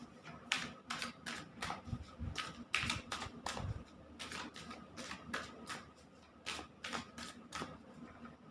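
A tarot card deck being shuffled by hand: a series of crisp, close riffling and snapping bursts in irregular clusters, quiet, with no voices.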